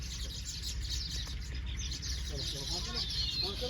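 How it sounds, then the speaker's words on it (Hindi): Lots of small birds chirp and twitter together around nests in a Uttar Pradesh village, a dense, continuous chatter over a low background rumble. "इतनी सारी चिड़ियों की आवाज आ रही है यहाँ पे।"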